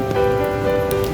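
Rain falls on a street in Hong Kong, a steady wash of patter on surfaces, close and continuous, with a low humming tone running underneath.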